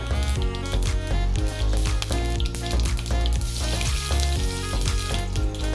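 Hot oil sizzles and crackles steadily as mustard seeds and dried red chilies fry, a continuous close-up hiss with small pops throughout.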